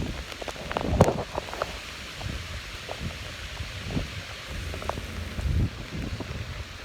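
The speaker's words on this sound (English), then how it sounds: "Pretty windy out here to be fishing" Wind gusting over a fishing boat spinning in a tropical storm, a steady rushing noise with rustling buffets and a few louder thumps near the start, no speech.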